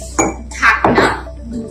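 Lids of a couple's ceramic mug set clinking: a few close, bright knocks and clinks in quick succession, with short ringing decays and no talking.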